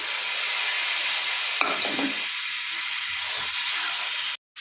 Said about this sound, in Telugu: తర్వాత ఇందులో చికెన్ వేసి బాగా వేయించాలి.